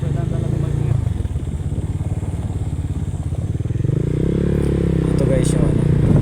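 A motorcycle rolls slowly along a rough, rocky rural road near Norzagaray, Bulacan, its low engine chugging steadily up close with clattering from the bumpy surface throughout.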